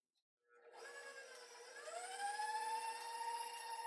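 An electric stand mixer creams butter and sugar at medium-high speed, starting abruptly and settling into a steady, loud motor whine that rises slightly in pitch and holds, with no voices.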